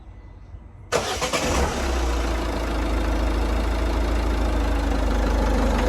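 A Citroen DS3 1.6 diesel cranks briefly after a quiet moment and catches, then settles into a steady, loud, close idle with a low rumbling clatter that holds to the end.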